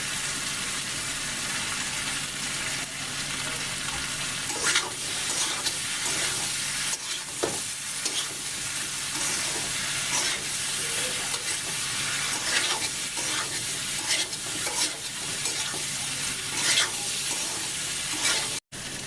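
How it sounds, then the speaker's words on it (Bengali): Raw plantain (kanchkola) frying in hot oil, a loud, dense sizzle that lasts throughout, broken by repeated scrapes and knocks of stirring, close up and with no talking. "দেখেন আমরা ভালো করে ভেজে নিচ্ছি"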